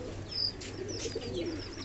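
Fancy pigeons coo softly while splashing in a small water bowl, low murmuring calls with faint chirps and light water movement close by.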